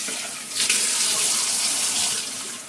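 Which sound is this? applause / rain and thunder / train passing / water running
water running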